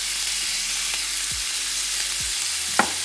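Duck breast fries in a hot pan with a steady, close crackling sizzle throughout, one brief sharp pop near the end, no talk.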